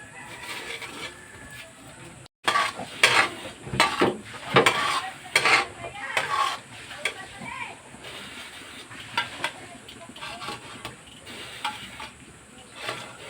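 Sugar stirred in a frying pan while making latik for banana cue, with scraping utensil strokes against the pan over a soft sizzle and background voices talking.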